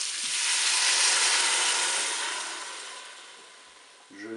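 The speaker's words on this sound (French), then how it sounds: "Je vais verser mon bouillon." Broth pours into a Cookeo multicooker pot over tagliatelle for a chorizo dish, making a steady close hiss that swells and then fades before a brief clink at the end.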